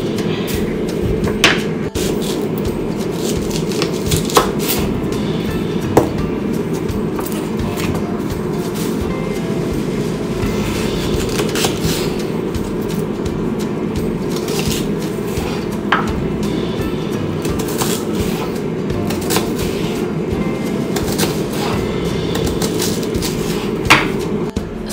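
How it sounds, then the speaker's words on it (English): A knife chops onion for a stir fry, giving sparse, sharp taps against a board over a steady background of kitchen noise. "Cutting some onion to put in the stir fry."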